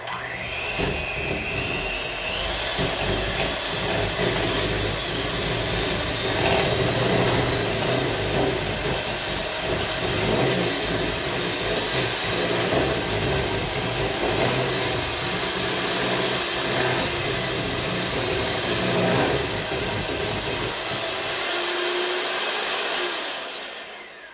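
An electric mixer whirs steadily for over twenty seconds, its beaters churning softened cream cheese for a no-bake cherry cheesecake, a loud constant drone with slight wavering, cutting off sharply near the end, with no talking.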